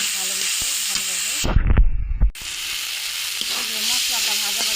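Spice paste and tomato frying and being stirred in a pan: a constant hissing sizzle broken midway by a loud clattering scrape of the utensil, then the sizzle resumes alone.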